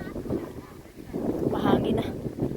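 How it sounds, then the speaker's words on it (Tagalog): Morning wind gusts outdoors and buffets the microphone with low rumbling surges that swell and fade, while a voice is faintly heard underneath. "mahangin na."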